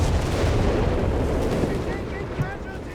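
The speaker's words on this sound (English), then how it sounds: "Ooh, the recon artillery there called in by Ray" Recon artillery barrage in the Company of Heroes 3 strategy game, heard as a continuous rumbling wash of distant booms and blasts with a sharper hit near the end, steady and fairly loud throughout.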